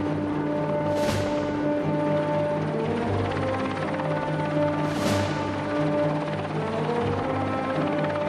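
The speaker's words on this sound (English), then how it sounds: "after the helicopter has lifted the salvage crew to the vessel" Helicopter hovering over the salvage vessel Kodima, a steady loud rotor drone with a continuous engine whine, two brief gusty whooshes breaking through the constant roar.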